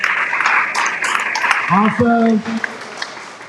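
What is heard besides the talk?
audience applause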